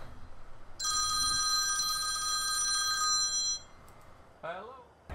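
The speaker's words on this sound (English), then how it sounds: "Oh, that's my phone." Electronic phone ringtone in a Farming Simulator 17 roleplay session, sustained and even for a few seconds before cutting off, followed by a short spoken fragment against quiet background noise.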